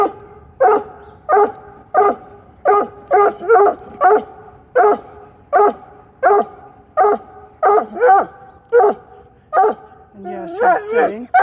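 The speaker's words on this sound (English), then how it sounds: "I'm waiting for him to stop barking." A dog barks repeatedly in a steady run of loud, close yaps and barks, ending in a burst of whining yelps; a person talks at times in the background.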